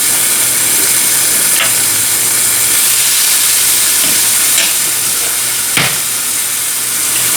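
Eggs sizzling loudly in a hot pan next to frying steak, a constant close hiss and crackle with a few sharper pops.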